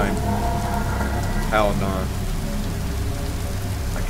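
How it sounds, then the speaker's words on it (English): Steady heavy rain pours down in a video game, a constant close hiss that covers the whole scene. Someone speaks briefly over the downpour. "What are you doing out here in the pouring rain at this time?"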